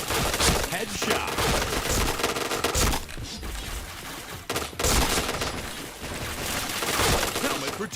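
Dense rapid gunfire in a video game shooter, loud bursts of shots crackling almost continuously with short lulls, close and harsh.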